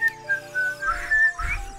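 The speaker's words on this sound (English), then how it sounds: "Is how I sound when I whistle." A person trying and failing to whistle, producing thin, breathy, broken high tones in short wavering bursts with airy puffs between, close and fairly loud over a faint background drone.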